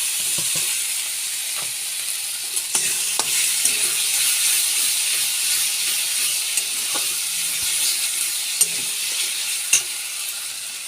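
Tomato paste frying with catla fish curry in a pan, a steady bright sizzle with occasional spoon taps and clicks as it is stirred, close and continuous with no voices.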